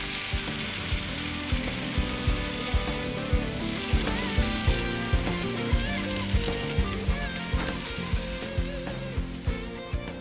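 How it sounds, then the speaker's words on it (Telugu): Tomato pieces and raw banana peels frying in a pan give a steady, close sizzle with soft rhythmic stirring clicks running throughout. "తర్వాత దీంట్లో ముక్కలుగా కట్ చేసి పెట్టుకున్న టమాటాలని వేసుకొని వేయించుకోవాలి"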